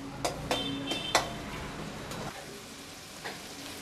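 Shallots, green chilies and curry leaves sauté in a pan, with a soft sizzle under several sharp clicks of a spoon against the pan early on, then a quieter sizzle with one more tap.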